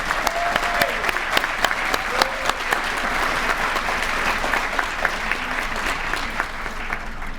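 Sustained round of applause from a ceremony audience honoring the class of 2020 at an awards and pinning event, steady dense clapping with sharp individual claps standing out throughout.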